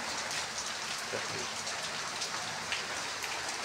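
Steady rain falling, a continuous dense hiss with faint scattered drops, no pauses.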